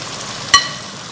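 Bitter gourd frying in half a cup of oil gives a steady, low sizzling hiss, broken once by a single sharp metallic clink of a utensil against the pan.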